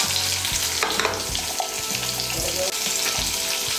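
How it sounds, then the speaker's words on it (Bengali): One large chopped onion goes into hot oil with garlic in a pan, producing a loud, continuous frying sizzle with stirring clatter and a few low metallic knocks, close up. "এর মধ্যে আমি দিয়ে দিচ্ছি 1টা বড় সাইজের পেঁয়াজ কুচি।"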